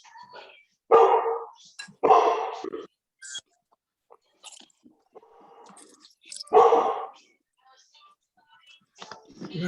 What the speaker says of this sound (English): There's a big old doggity dog.